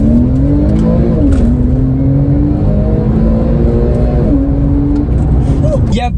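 Porsche 911 997 Carrera S 3.8 accelerating hard under PDK launch control, a loud sustained engine roar climbing through gears with brief shift dips, heard from inside the car with steady road and wind noise.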